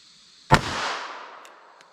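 A single sharp, loud shot from a small Ruger LCP pocket pistol firing .380 ACP ammunition, close by, followed by a long fading echo.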